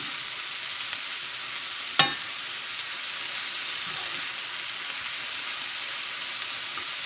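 Cardoon casserole mixture sizzles steadily in a pan on medium heat while being stirred, with one sharp clack of the utensil early on against a continuous hiss.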